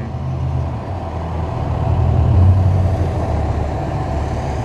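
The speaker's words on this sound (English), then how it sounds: "I'm gonna troll the garbage truck." A garbage truck idles and rumbles nearby with a steady, loud low engine drone that swells slightly midway, with no voices.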